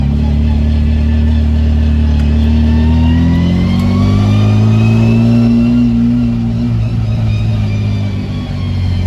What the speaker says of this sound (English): it's just the gearbox making the noises that you can hear now.